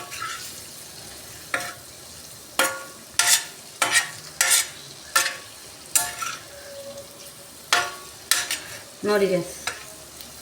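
Paneer sizzling and frying in a pan while being stirred, with a run of sharp spatula scrapes and clinks against the pan over a steady sizzle, close and fairly loud; a brief voice speaks near the start.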